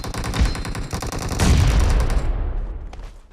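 Rapid bursts of automatic gunfire from a battle royale mobile shooter, Battlegrounds Mobile India, rattle close and loud in dense volleys, then cut off and leave a few faint trailing shots.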